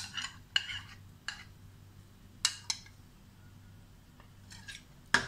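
A spoon mixes yogurt into mint rice (pudina pulao) in a pot with the stove off, giving sparse scraping clicks and soft clinks, several sharp taps spread across a quiet background.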